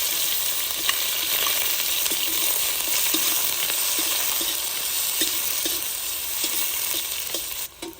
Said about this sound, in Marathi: कढईत आता तेल टाकून घेऊ सर्वात आधी आपण गाजर टाकणार आहोत